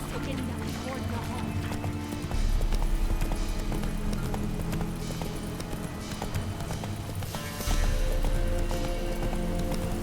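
In The Witcher 3: Wild Hunt, the horse Roach gallops with steady, rhythmic clip-clop hoofbeats, loud and close, under game music and spoken dialogue.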